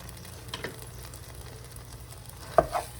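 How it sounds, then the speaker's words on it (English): Cream cheese stirred in a pan for shrimp Alfredo, a soft low sizzle with a few quiet scraping strokes and one sharper clink of the utensil near the end. "Now we gotta mix that cream cheese around"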